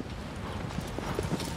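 A horse's hooves clip-clop at a walk in Shadow of the Colossus, soft irregular steps near a shallow stream under a low ambient bed.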